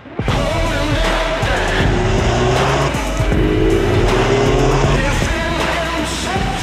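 A new MINI 3 Door or 5 Door Hatch driving, its engine droning steadily with rising gear pulls and some tyre noise throughout, close and fairly loud with no talking.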